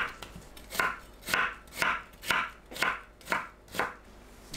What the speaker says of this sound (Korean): 감자를 곱게 채 썰어 주세요.